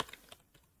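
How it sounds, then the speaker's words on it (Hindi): Keys clack on a computer keyboard as a command is typed, several soft, irregular taps in quick bursts, close and fairly quiet with no voices. "ए जेड एक कमांड टाइप करेंगे"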